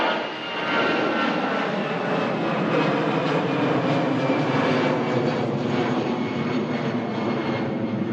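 An airliner departs Manchester Airport for Doha, its jet engines producing a loud, sustained roar with a faint whine, steady throughout and close enough to dominate.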